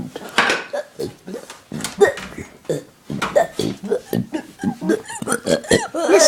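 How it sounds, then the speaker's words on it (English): A man burps repeatedly, with deep, croaking belches mixed with voices and chatter. Several throaty bursts come close and loud over about six seconds. "Listen to this guy burping."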